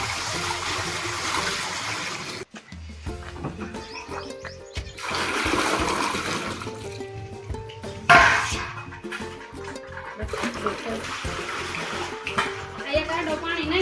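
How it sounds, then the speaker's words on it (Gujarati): Potatoes for chips are washed in water in a village kitchen, with splashing, pouring and sloshing in bursts and pauses, close by, while voices talk now and then. "આ બે ત્રણ પાણીએ ધોવું પડે."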